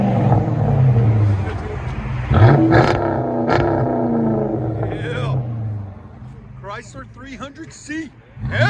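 Chrysler 300C with a 5.7L HEMI V8 and a Flowmaster Outlaw exhaust roars and rumbles loudly through the first six seconds, a sustained deep exhaust note, with a person talking over it and more speech toward the end.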